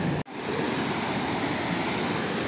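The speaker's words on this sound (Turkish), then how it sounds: "Şöyle dere geliyor bakın oradan." A small stream pours steadily into a pool, a dense continuous rush of water close to the microphone, briefly cut by a short dropout near the start and otherwise unbroken, with no voices.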